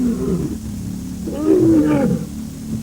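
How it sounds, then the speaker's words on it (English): A lion gives a deep, rumbling roar that swells loudly in the middle and then fades, close and powerful over a low background rumble, with no voices. "when a lion roars, you can feel that sound vibrating through you"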